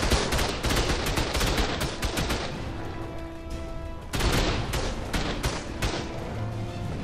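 Turret gunfire in the video game ARK Survival Ascended rattles in rapid continuous bursts, with a brief lull midway before the firing resumes, loud and close, over a faint mechanical hum.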